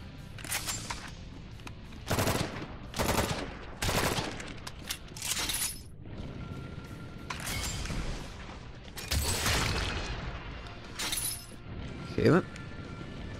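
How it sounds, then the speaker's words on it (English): Bursts of rapid Gatling gun fire in the video game Drawn to Death: several short, loud volleys separated by brief pauses, with voices talking in between. "The Gatling gun, or the Gatling gun."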